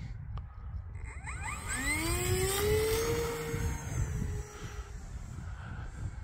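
An E-flite Cirrus SR22T radio-controlled plane takes off from winter grass in Ohio, its electric motor whining up in pitch and then fading as it climbs, faint and outdoors.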